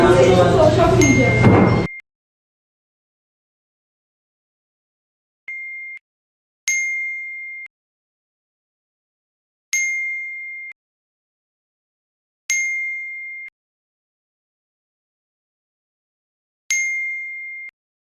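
A phone sounds a group chat message notification ding four or five times, each a bright, clean chime separated by several seconds of silence, following a short stretch of talk at the start.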